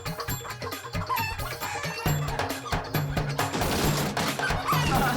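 A rooster being chased around clucks and squawks in agitated, repeated bursts, close and loud, mixed with dramatic background music and occasional clattering knocks.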